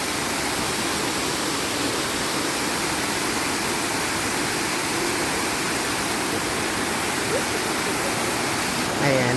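Cambugahay Falls on Siquijor Island, a steady roar of cascading water close by, broad and unbroken throughout.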